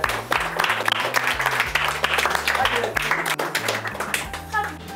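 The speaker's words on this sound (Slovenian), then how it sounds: "pa lepo zaploskamo za uspeh" Loud group applause for children after a bread-kneading workshop, steady clapping from many hands filling the whole stretch, with children's voices and adult talk mixed underneath.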